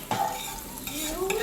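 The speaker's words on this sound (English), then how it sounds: "the onions go in and you start to mix it up" Onions frying in a pan for cooking tofu, stirred briefly: a short burst of close sizzling with a quick utensil scrape and faint clink, no speech.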